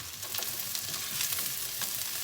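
Onions fry in a pan with a steady, soft crackling sizzle, close and continuous throughout, with no talking.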